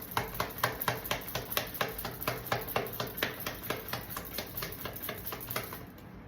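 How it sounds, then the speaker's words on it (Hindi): Tarot cards shuffled by hand in a steady run of quick, crisp riffling snaps, close and fairly quiet, with no talking. "सो चलिए स्टार्ट करते हैं शफलिंग से एंड देखते हैं आपके लिए क्या कार्ड्स आते हैं"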